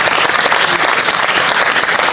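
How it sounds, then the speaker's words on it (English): Dense, steady audience applause at a live televised debate session, a continuous wash of many hands clapping with no speech over it. "David, you deserve a round of applause"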